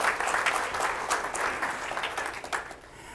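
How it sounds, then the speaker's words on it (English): An audience at a chapter meeting claps for sponsor representatives, steady close applause that thins slightly toward the end. "We'll give you a big round of applause."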